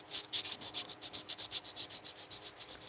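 A wooden hoop earring being sanded by hand, giving a soft, quiet rubbing scrape repeated in a quick, steady back-and-forth rhythm of short strokes, close up with no talk.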